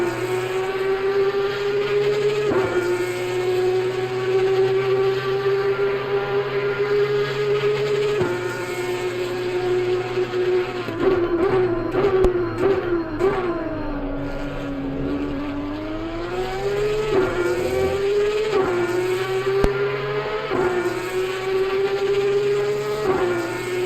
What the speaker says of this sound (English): Now that is an engine, isn't it? That does sound beautiful.